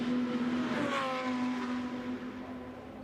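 A Porsche GT2 race car in Martini colours laps the Monza circuit during a 2021 Fanatec GT2 Series race, its engine note climbing and then holding a steady, loud, continuous drone.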